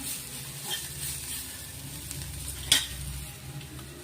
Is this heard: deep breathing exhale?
no